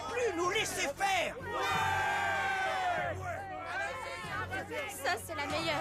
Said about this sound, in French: La foule est plutôt déchaînée